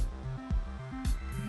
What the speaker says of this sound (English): And then it gives you this handy, very annoying, we're switching waves sound